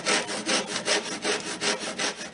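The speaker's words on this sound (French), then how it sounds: "c'est plusieurs coups de scie entre nos deux traits" A hand saw cutting through wood in quick, even back-and-forth strokes, close up and rhythmic.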